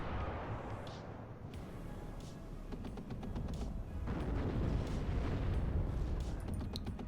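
Booming explosions from satchel charges thrown by engineers in the WARNO strategy game, rumbling blasts and scattered gunfire building in intensity over a steady battlefield din.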